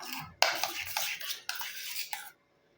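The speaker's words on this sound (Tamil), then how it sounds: "தேன் சேர்த்து கலந்ததுக்கப்புறம் நல்ல ஒரு சூப்பரான பேஸ்ட் ஆயிரும்." A spoon scrapes and clinks against a bowl while stirring a thick paste of honey with one other ingredient, close and fairly loud in short bursts for about two seconds before stopping.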